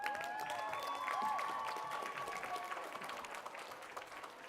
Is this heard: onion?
no